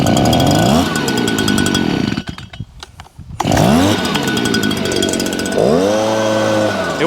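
A Stihl BG56C leaf blower, a small two-stroke engine in need of carburetor work, runs loud and close with a rough, revving drone that briefly drops away mid-clip before surging back at full pitch.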